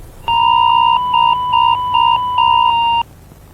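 A robot dog attack warning alert rings out as a loud electronic two-tone beeping, pulsing in about five steady bursts over a faint background hum, with no voices.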